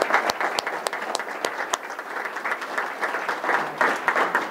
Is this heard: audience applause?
yes